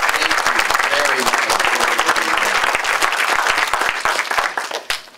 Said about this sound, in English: I also would like us to give our moderators a wonderful round of applause